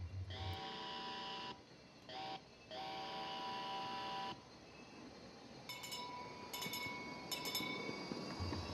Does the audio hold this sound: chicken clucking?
no